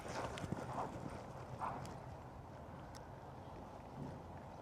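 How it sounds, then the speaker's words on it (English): A horse lopes circles around a barrel in an arena, its hooves drumming out a steady, rhythmic three-beat clip-clop at moderate distance, with faint wind noise over the microphone. "This time, Ty, have her just lope some nice circles around the barrel."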